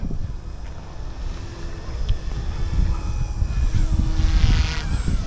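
A Blade 150S RC helicopter with a replaced servo flies nearby, its steady rotor and motor whine holding under a rushing outdoor background and swelling slightly louder toward the end.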